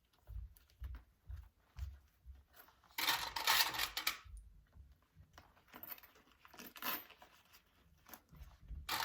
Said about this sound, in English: And then do your zipper up here.